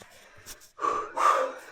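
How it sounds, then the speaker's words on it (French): Heavy, ragged breaths come from someone out of breath after walking through a cave, two loud gasping exhalations near the mic after a quieter start. "Ah, on est essoufflé là!"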